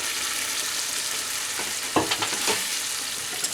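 Fried potato and pointed gourd pieces go into a pan of sizzling spiced mixture for a vegetarian potol dish, a continuous bright hiss with a few brief thumps and stirring scrapes partway through.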